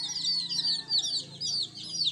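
Chickens fed on corn cluck in a steady series of short, close, repeated calls, with a low hum underneath.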